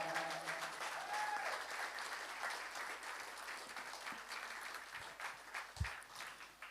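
A small studio crowd applauds an opening act at a live concert, sustained clapping that gradually thins toward the end, no voices over it.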